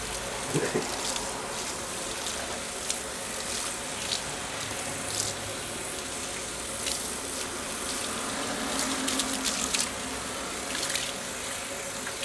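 Tap water runs continuously in a steady hiss while hair is rinsed at a salon basin, with faint background voices and small clatters.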